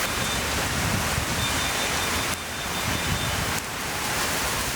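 A heavy rain and wind storm in Shanghai roars as a dense, constant wash of downpour and gusting wind, loud and unbroken apart from two brief dips.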